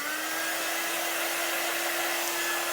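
A hair dryer runs continuously close by with a steady whine and airy rush, drying a chalk craft project, alone without any talk.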